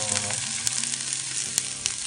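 Onions frying in a pan for a beef dish: a steady, close sizzle with small crackles throughout, no voices.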